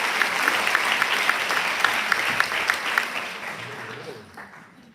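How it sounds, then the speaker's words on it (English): Audience applause for performer Sri Vidya at a live show, a dense wash of clapping with a few sharp standout claps that slowly tapers off toward the end. "Can we have one more round of applause for Sri Vidya"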